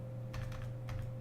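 Keystrokes tapped on a computer keyboard while searching in a Lubuntu 18.10 LXQt desktop, two short clustered bursts of quick clicks over a steady electrical hum, close and fairly quiet.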